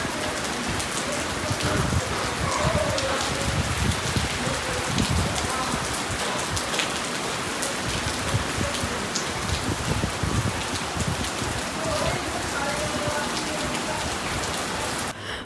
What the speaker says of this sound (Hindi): बहुत ज़्यादा ही तेज़ बारिश हो रही थी.